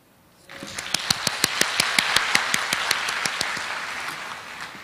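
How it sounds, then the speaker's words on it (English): An audience at the opening ceremony of an international organizations information session applauds to welcome guests, breaking into sustained clapping after a quiet start, with loud evenly spaced claps standing out in the steady crowd. "I would like to ask you to join me in welcoming them with a round of applause"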